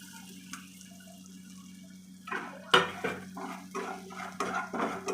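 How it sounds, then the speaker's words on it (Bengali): Spices including sugar, turmeric, salt, coriander, cumin and Kashmiri chilli powder are stirred in a pan. After a quiet start, a sharp clank of a utensil on metal is followed by repeated scraping strokes and a faint sizzle. "এবার এটা একটু নেড়ে চেড়ে নেবো, একটু ভালো করে কষিয়ে নেব।"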